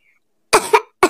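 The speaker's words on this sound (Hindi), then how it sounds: "अब देखो, हो गई ना खांसी।" A cartoon child gives three sharp coughs in quick succession, loud and close, after a faint brief tone.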